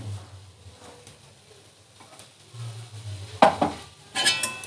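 Chopped onions stirred into greens in a pan, soft scraping and a faint sizzle building to a few sharp utensil clinks against the pan near the end.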